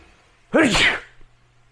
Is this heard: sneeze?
yes